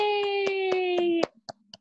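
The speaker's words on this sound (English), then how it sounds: "Clap your hands." Hands clap in a steady rhythm of about six claps over a sustained musical tone, followed by a few more scattered claps after the tone stops.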